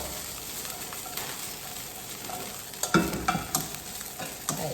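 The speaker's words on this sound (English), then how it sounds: "we are frying food while we are stirring it" Finely chopped vegetables sizzle steadily as they stir-fry in a hot pan, with a utensil scraping and clattering in a few quick strokes toward the end.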